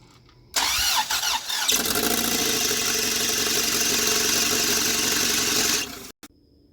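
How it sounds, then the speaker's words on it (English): A cammed 2.4 engine in a 1987 CSX cranks briefly, catches and starts for the first time, then runs loud and steady at a rough, lumpy idle for about four seconds before abruptly shutting off. "Test fire 1, hopefully it runs."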